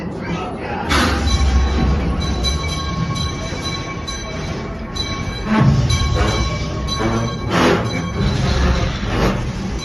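Theme park train ride at Knott's Berry Farm, with a steady rumble of rolling cars, scattered clanks and squeals, and people talking throughout.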